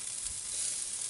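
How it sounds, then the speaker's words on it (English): Goose skin browning on a grill, a close, steady hissing sizzle of fat crackling, brief and unbroken, with no voices. "I'm just going to brown the skin just a little bit"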